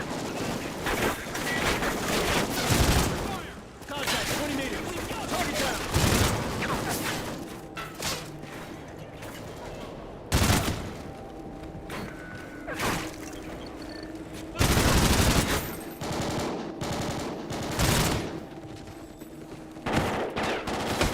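Bursts of automatic machine-gun fire and explosive booms from the video game Call of Duty: Ghosts, loud and repeated in heavy clusters over a continuous battle din, with voices shouting under the shooting.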